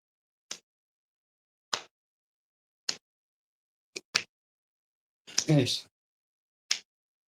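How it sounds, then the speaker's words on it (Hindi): Single hand claps during a yoga exercise session, palms meeting under the knees, sounding as isolated sharp claps roughly every second amid near silence, with one short burst of voice midway. "दोनों घुटनों के नीचे से हथेली मिलाते हुए, ताली बजाते हुए, रोग को भगाते हुए और व्यायाम करते हुए।"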